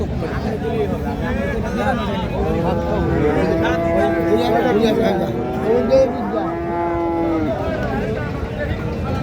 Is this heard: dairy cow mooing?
yes